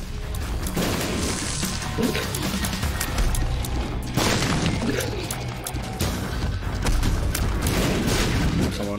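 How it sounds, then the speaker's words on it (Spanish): Explosions from the video game The Binding of Isaac: Afterbirth+, several loud booming blasts spaced a couple of seconds apart, laid over busy in-game music and effects. "Cuidado con las explosiones."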